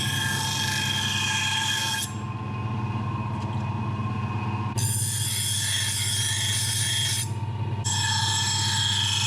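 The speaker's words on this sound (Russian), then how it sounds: "Потом шлифовка." A handmade Yakut knife is ground and sanded on a powered machine, giving a continuous abrasive hiss over a steady motor hum, with bright grinding bursts that cut in and out as the blade is pressed on and lifted off.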